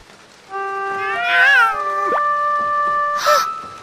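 A cartoon cat meows at waking, a few drawn-out, rising and falling calls heard clearly and close over a faint musical background.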